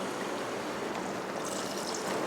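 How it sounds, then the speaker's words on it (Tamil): Water from a rinsed mixer jar poured into simmering mutton curry, a steady close trickling splash running for a couple of seconds with no talk. "நம்ம மிக்ஸி ஜாரெல்லாம் கழுவி இதில் தண்ணி ஊற்"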